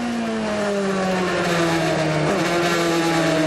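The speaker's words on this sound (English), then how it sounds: "Listen to the engine note. Very gentle on the throttle." Onboard GP2 race car engine at the 2005 Turkey round, driven gently on the throttle: a steady, loud harmonic drone that sags slightly, then holds, close up and without voices.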